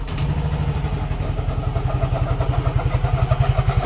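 A Yamaha Fazzio 125i scooter starts up close: a brief whirring crank, then the engine catches and settles into a steady, rapid thumping idle with a slight clatter, heard alone.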